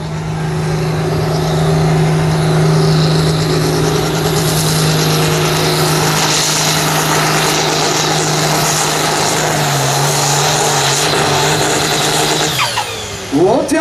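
A 6R Express tractor roaring through a farm tractor pull, its loud sustained engine drone and steady whine running for the whole stretch before cutting off near the end, with an announcer talking over it.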